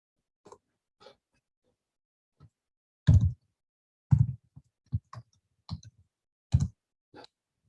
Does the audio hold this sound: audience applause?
no